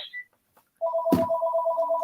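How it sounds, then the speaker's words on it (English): A house phone rings with a loud, steady electronic trill after a brief quiet pause, and one dull thump lands just after the ring begins. "there's a phone ringing here."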